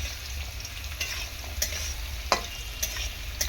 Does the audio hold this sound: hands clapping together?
no